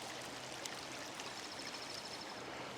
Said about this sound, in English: Just pissing water down there.